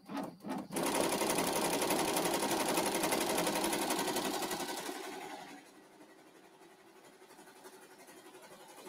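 An embroidery machine stitching, a loud rapid mechanical rattle that runs steadily for several seconds, then drops to a quieter running hum, with a couple of sharp knocks at the start.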